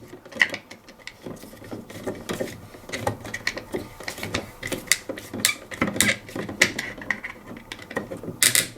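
Screwdriver work on a socket terminal screw clamping neutral wires while fitting a socket on a ring final circuit: a close, busy run of small scraping, clicking and ratcheting mechanical noises throughout.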